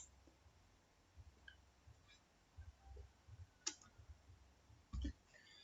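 Computer mouse clicks while selecting an option in Cisco Packet Tracer software setup, a few faint, sharp clicks spaced irregularly over a quiet background.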